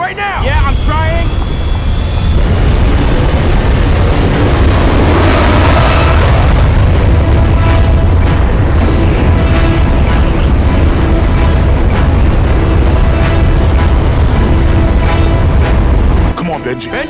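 A steady, loud airplane engine roar fills a movie scene, a continuous low drone with shouting voices over it, holding at the same level throughout.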